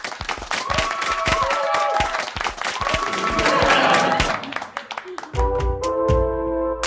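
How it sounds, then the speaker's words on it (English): Canned applause effect triggered from a button on a comedy podcast, clapping and crowd noise layered with a tonal musical sting, then a sustained synth chord taking over near the end. "Just smash that applause button, please."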